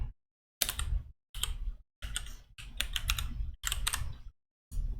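Fingers typing code on a computer keyboard in rapid, close clattering bursts of keystrokes separated by short pauses, loud and clear with no voices.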